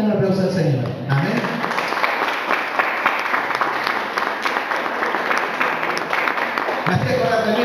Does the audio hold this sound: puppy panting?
no